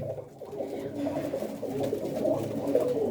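An old pigeon with yellow eyes coos in a loft with clay nest boxes, a continuous low throaty warbling that swells and rolls close by, with faint other coos behind.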